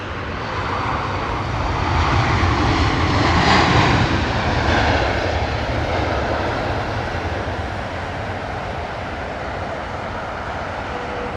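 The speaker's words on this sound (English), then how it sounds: "British Airways Dreamliner coming in." A British Airways Dreamliner airliner comes in to land at London Heathrow, its engines a broad, loud roar that swells to a peak midway and then eases off into a steady rumble, with no voices over it.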